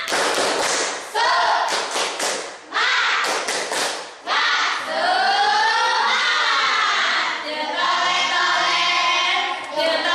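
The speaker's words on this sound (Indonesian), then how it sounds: "Untuk lebih semangat lagi, kita tepuk semangat dulu." A classroom of students does a rhythmic spirit clap, bursts of clapping in quick patterned beats, followed by children's voices chanting loudly together.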